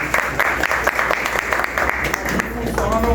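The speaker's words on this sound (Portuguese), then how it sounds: "Uma salva de palmas para ele." An audience at an outdoor park gathering on religious intolerance claps in a steady burst of applause, with a voice talking over it toward the end.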